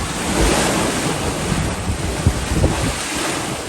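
Ocean waves rocking a sailing boat off Fiji's Yasawa Islands, a steady loud wash of water and sea surf mixed with strong wind buffeting the microphone, continuous and close.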